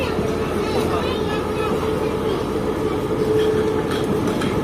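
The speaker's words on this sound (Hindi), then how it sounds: "यही लोकोमोटिव जो है ये ट्रेन को लाया होगा और अब यही रिवर्स करके वॉशिंग लाइन की तरफ लेकर जा रहा है" A diesel locomotive reverses at a station, a steady low rumble and hum with a faint tonal whine, heard close and continuous beneath a murmur of background voices.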